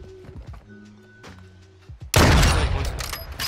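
Gunfire in the video game Modern Warfare 2 erupts into a loud, dense burst partway through, following quieter in-game thuds and tones, with the shooting sustained to the end.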